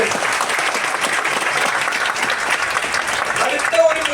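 An audience gives sustained, dense applause, loud and even throughout, while a voice talks faintly underneath near the end.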